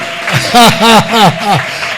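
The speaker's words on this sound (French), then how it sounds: "on peut réunir les acclamations? Que ça fasse double." A congregation at a French-speaking Christian conference raises a short burst of cheers and applause: pulsing, voiced shouts in a steady rhythm, loud and close, with clapping beneath.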